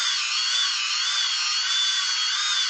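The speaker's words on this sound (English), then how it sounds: "I'm taking a Dremel here with a little wire wheel on it" Dremel rotary tool fitted with a small wire wheel cleaning a part on a Kawasaki KZ400 motorcycle during an electric start upgrade, a steady high whine held close and loud without a break.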